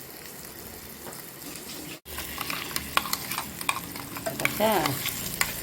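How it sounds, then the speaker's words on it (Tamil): Ground masala sizzles in a pan while being stirred for prawn thokku. Scraping strokes sound over continuous frying, with a brief break and a short spoken word near the end. "வதக்கி அரைச்சி வச்ச மசாலா போட்டு"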